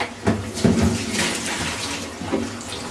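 Water running from a tap in a home, a steady close splashing rush with a few louder gurgles, continuous throughout.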